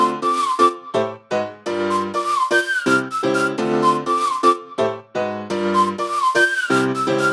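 A whistled melody of short and held notes plays over a piano bed in a music mix, clear and upfront, phrases separated by brief gaps.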